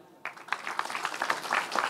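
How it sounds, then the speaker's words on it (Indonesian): Audience applause at an Indonesian community forum breaks out suddenly after a short pause, a brisk crowd of clapping that stays steady and fairly close to the end. "Tepuk tangan."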